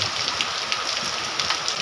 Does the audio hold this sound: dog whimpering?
no